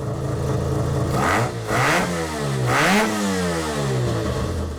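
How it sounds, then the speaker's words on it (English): A Mazda RX-3's original 12A rotary engine revs hard three times in quick succession, its pitch rising and falling with each blip, loud and close with no talking. "This RX3 is fitted with its original spec 12A rotary engine"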